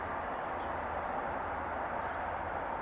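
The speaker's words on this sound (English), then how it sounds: "that noise you hear is a barge" A barge moving down the Ohio River in West Virginia makes a faint, steady, distant low rumble and wash of noise, unbroken and without talk.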